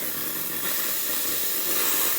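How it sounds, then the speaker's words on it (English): Steam wand on a Lelit Bianca V3 espresso machine with a 4-hole steam tip, running after a full service: a steady, loud, broadband hiss of escaping steam that holds throughout without any talk. "I'm going to also start running the steam one just to test it out."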